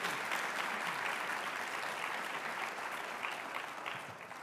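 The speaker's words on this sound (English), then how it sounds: "Can we give these individuals a round of applause" A crowd at the THRIVE 2025 Summit applauds first responders with steady, dense clapping that holds evenly for several seconds before easing slightly at the end, no voices standing out.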